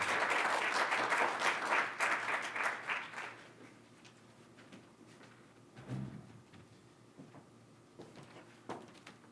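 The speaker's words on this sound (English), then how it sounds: "let's have one more round of applause for them" A school audience applauds student literary award winners: a burst of clapping for about three seconds that fades out, followed by a quieter room with a few small knocks and shuffles.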